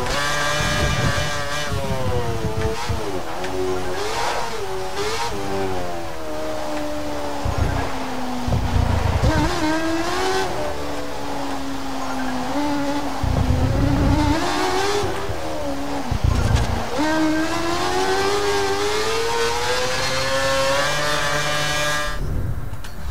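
Formula 1 2013 racing game car lapping a wet track, its engine note climbing and dropping steadily through gear changes and corners, loud and continuous with low thumps and no talking.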